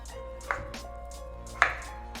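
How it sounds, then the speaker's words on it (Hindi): Potatoes being cut lengthwise into chip-like strips give two sharp knife-on-board chops, with soft handling noise between them. "अब इसी तरह मैं सारे आलू लंबाई में काट लूँगी"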